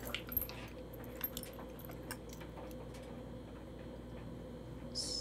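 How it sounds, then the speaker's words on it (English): Keys jangle in a student film scene, brief metallic clinks and rattles at the start and again near the end over a low room hum, fairly faint and close. "Flynn, give me my keys"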